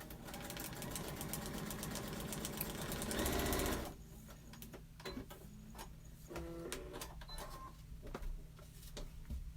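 A sewing machine stitches quilt block pieces with a fast, steady whirring run for about four seconds, then stops, leaving light clicks and handling noises of fabric and work at the table.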